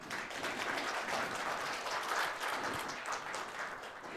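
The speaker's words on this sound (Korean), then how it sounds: "건축공간연구원 개원기념 심포지엄을 뜨거운 박수로 시작하겠습니다" An audience applauds to open a symposium on architecture and urban space, a continuous wash of clapping heard at moderate distance and fairly low level.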